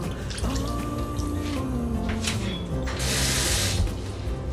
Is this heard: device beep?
no